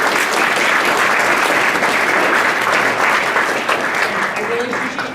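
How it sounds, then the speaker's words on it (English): A loud round of applause for a student panel at a freshman seminar, with many hands clapping in a thick, continuous patter that fades slightly toward the end, and a voice speaking over it. "I think we owe them a big round of applause."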